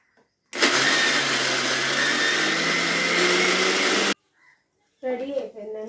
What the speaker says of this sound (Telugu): రెడీ అయిపోయిందండి. మిక్సీ పట్టుకున్నాము.